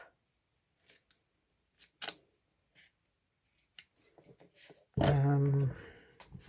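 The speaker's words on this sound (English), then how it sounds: "And all I do there is I just trim that off." Scissors trim foam for a homemade craft stamp: several short, crisp snips spaced apart, followed by a louder sustained tonal sound near the end.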